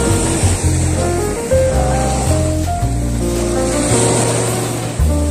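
Sea waves on the shore at Khor Fakkan beach, a steady broad wash running under prominent background music.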